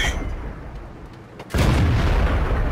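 Sharp, heavy boom of a tank gun firing in World of Tanks, a single loud blast that cuts in abruptly after quieter engine rumble and rings on with a low roar.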